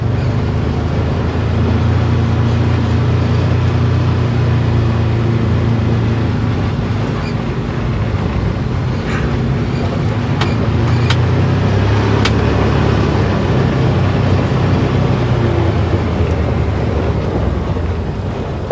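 A Can-Am Defender HD10 side-by-side driving down a gravel road: a loud, continuous engine drone with rumbling tire and road noise that holds steady throughout, and a few faint rattles partway through.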